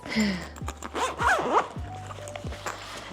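A large pencil case is unzipped in a few quick rasping pulls, close and crisp, followed by soft handling thumps.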